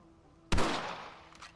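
A single sharp rifle shot in the western video game Red Dead Redemption, abrupt and booming, with a long rolling echo that trails off over a second; faint background before it.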